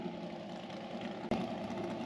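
A large drag car engine idles with a steady, deep rumble, briefly interrupted by a short dropout before the drone resumes.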